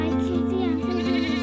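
Sheep and goats bleat on a farm during hot morning chores as water buckets are filled, their calls close and sustained with a voice talking over them.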